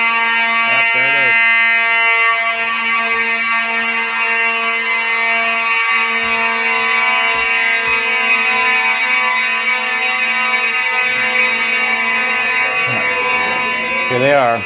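A church fire alarm blares loudly and continuously, a harsh buzzing electronic tone with strong steady harmonics, with people talking faintly underneath.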